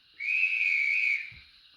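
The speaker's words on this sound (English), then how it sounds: "16 is a guards whistle." A single shrill railway guard's whistle blast from a model Manor steam locomotive's DCC sound decoder lasts about a second, clear and piercing, then stops, leaving a quiet hiss.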